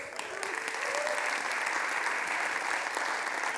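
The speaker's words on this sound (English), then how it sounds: "That applause is well deserved." An audience applauds Wyoming Senator Cynthia Lummis at the BTC in DC 2025 fireside chat, a dense, steady wash of many hands clapping that swells in quickly and holds at an even level throughout.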